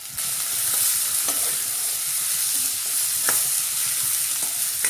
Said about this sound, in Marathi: चार मोठे कांदे चिरून घेतलेले आहेत ते छान आपल्याला परतून घ्यायचे आहेत